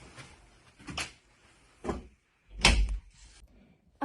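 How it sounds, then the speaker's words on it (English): A door is pushed shut indoors: a few separate knocks and thuds, the last one the heaviest, set apart by short quiet gaps. "Shut the door."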